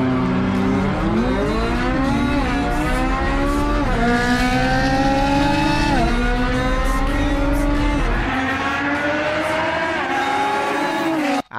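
A Ferrari races a 700 hp Nissan GTR, with engines screaming steadily through repeated upshifts as rising, stepped whines that stay loud and close.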